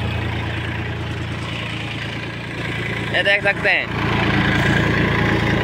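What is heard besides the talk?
Massey Ferguson tractor engine pulling a cultivator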